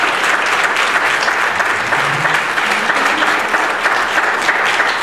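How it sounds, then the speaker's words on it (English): A church congregation claps steadily during a worship service, with dense, sustained applause filling the space for the whole stretch and no pause. "Give the Lord Jesus a hand clap for his gift."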